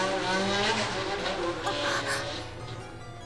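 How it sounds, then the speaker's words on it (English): Biker gang engines rev and roar in the background of a visual novel scene, a loud, continuous rumble that swells and fades over a few seconds. "The men were needlessly gunning their engines and filling the air with explosive screaming."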